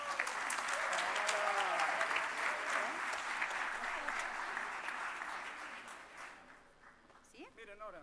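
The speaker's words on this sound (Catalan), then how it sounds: "Un aplaudiment per la guanyadora." An audience at a Sant Esteve choir concert in a municipal music school auditorium applauds a raffle winner, a dense burst of clapping that fades out toward the end as a voice begins to speak.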